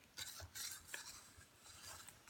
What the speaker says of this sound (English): So, I already added the other half of milk and started stirring.